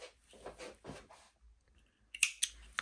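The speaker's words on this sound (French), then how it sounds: "On va couper le fil" Scissors snip crochet yarn close by with a few soft cuts, then two sharper snips near the end.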